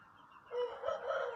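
A rooster crows once, a faint strained call rising after a quiet moment and holding for about a second, heard at a distance with no talking.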